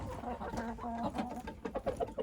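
Several chickens cluck softly and irregularly nearby, short throaty notes overlapping with faint rustling.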